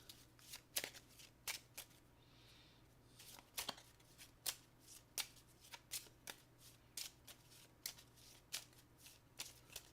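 A deck of game cards is shuffled nearby in a quiet room, with repeated crisp riffling bursts and snaps arriving in an irregular rhythm, some louder than others, and no talking.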